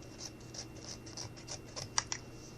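Scissors snip through material for a small pincushion armchair, a quiet series of light, quick cuts close by, ending in two slightly crisper snips.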